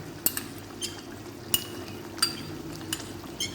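A spoon stirs about six to seven tablespoons of whisked yogurt into chicken karahi, with sharp metallic clinks against the pan over a soft, wet stirring sound and faint sizzle.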